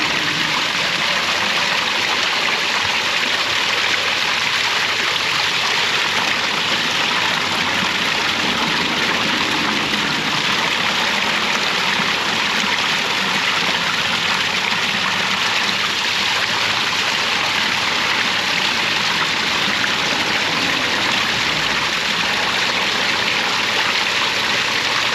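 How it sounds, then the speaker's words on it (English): Cold spring water flowing steadily while six gallons of water are filled at an outdoor spring, a loud, constant rushing splash with no breaks and no talk over it. "today I am filling up 6 gallons of water here at the spring"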